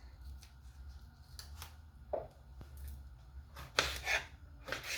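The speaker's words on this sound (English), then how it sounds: "I'll go on and cut up my tomatoes to big chunks" Two tomatoes being cut into big chunks with a knife for a potato dish, giving a series of soft, close chopping taps and blade scrapes on a board at an uneven rhythm, with a few sharper cuts toward the end.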